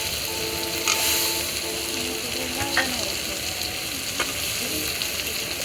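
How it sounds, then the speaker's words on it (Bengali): Potatoes tossed into a pan of sizzling fried prawns for a village-style prawn and Malabar spinach curry, a loud steady hiss of frying with a few clinks and scrapes of stirring, and a voice murmuring underneath. "আমি এখন এর মধ্যে দিয়ে দিব আলু।"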